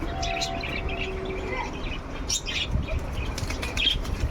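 Pigeons flap their wings in brief, rustling bursts close by, with a few faint chirps over a continuous outdoor hiss.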